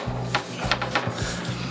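A reptile enclosure panel slides down into its frame track, giving a few soft scraping and rubbing knocks within about two seconds, close and fairly quiet.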